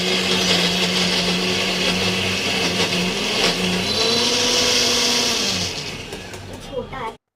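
A small kitchen mixer grinder jar whirs loudly, blending peeled mango pulp in a steady high motor drone that shifts pitch midway, then winds down and stops, with someone talking over it.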